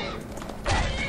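A horse in the video game Skyrim lets out a short, sharp neigh that swells louder near the end of the brief moment, close and fairly clear.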